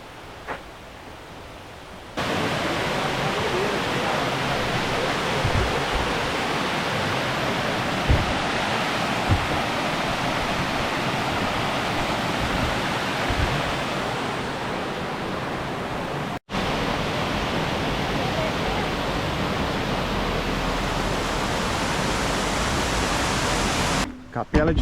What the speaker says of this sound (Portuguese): já dá para ouvir o barulho da água